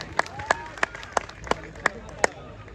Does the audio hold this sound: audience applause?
yes